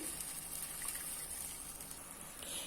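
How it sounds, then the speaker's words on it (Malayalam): Liquid jaggery is poured into a pan of thickened tamarind chicken gravy, giving a faint, steady watery gush that runs unbroken for a few seconds with no voices. "ശർക്കരയും എടുത്തു വെച്ചത് മുഴുവൻ ഒഴിക്കുക"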